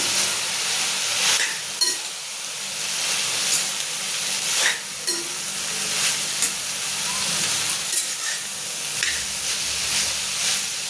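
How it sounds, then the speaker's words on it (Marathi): Noodles stirred and fried in a pan give a continuous sizzling hiss, broken by periodic scraping strokes and small bursts as they are moved about. "आपले हे नूडल्स टाकून घेऊ। आणि त्याला आता हलवून घेऊ आपण।"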